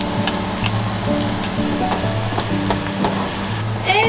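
Onion and spice paste sizzle steadily in a hot pan for paneer butter masala, a loud continuous frying hiss with light stirring knocks and no voices.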